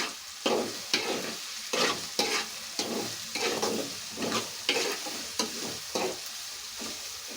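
A spatula repeatedly scrapes and stirs onions and dried shrimp frying in a pan for a gongura curry, making rhythmic close strokes about once a second over a continuous sizzle, with no talking.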